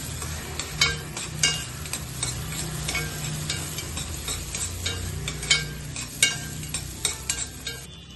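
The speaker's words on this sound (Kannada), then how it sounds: "ನಂತರ ಕಾಳು ಮೆಣಸು ಹಾಕೊಳ್ಳೋಣ. ಇದನ್ನ ಸ್ವಲ್ಪ ಗೋಲ್ಡನ್ ಬ್ರೌನ್ ಬರೋವರೆಗೂ ಹುರಿಯೋಣ." Black peppercorns frying in a pan for pumpkin carrot soup, with a steady soft sizzle, crackle and scraping stirring strokes throughout, close and without talk.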